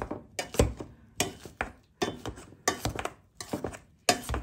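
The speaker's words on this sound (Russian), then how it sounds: "И теперь разминаем картошечку." Boiled potatoes being mashed in a pot, heard as a run of irregular clanking, scraping knocks of the utensil against the pot, fairly close and loud, with no voices.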